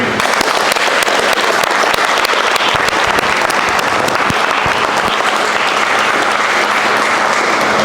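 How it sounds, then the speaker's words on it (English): An audience at a retirement celebration for a coach breaks into steady, loud applause, a dense wash of clapping that continues throughout without a break. "let's clap it up for Demick"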